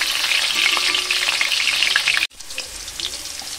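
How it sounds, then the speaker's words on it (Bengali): Potatoes frying in oil in a wok (kadai) give a steady, close hiss of sizzling with small crackles, broken by a sudden brief cut after about two seconds before a softer sizzle resumes. "আলুটা ভেজে নিচ্ছি।"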